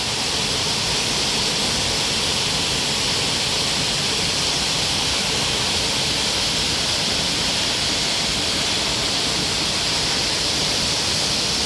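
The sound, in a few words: Bamni Falls waterfall, Ayodhya hills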